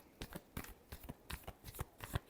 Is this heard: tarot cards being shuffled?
yes